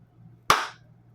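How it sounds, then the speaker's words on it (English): A single sharp hand clap rings out close and loud in a quiet indoor room, with a brief decay and soft background hum. "Can I get a good clap?"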